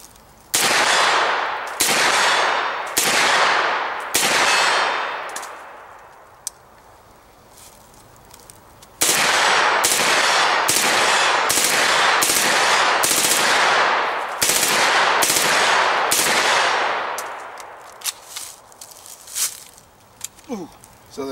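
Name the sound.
airsoft MP5 firing in semi-auto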